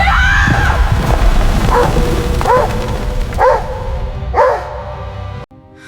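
A dog barks loudly and close by in an urgent scene, giving about five sharp, evenly spaced barks before the sound cuts off abruptly.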